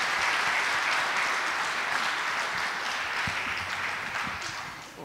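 A congregation at a Sunday school presentation claps for the teachers of the youngest class, a thick, even wash of applause that holds steady and tapers slightly at the close.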